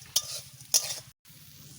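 Whole spices frying in hot oil left from frying fish for a Bengali fish curry, with two sharp crackles as a clove bursts, a steady low sizzle underneath and a brief silent gap.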